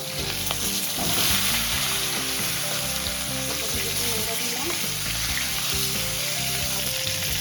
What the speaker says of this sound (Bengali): ফুলকপিটা আগে একটু ভেজে নেব।